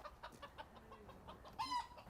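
Chickens cluck softly nearby in a quiet outdoor setting, with a few low murmuring calls and one brief, higher squawk near the end.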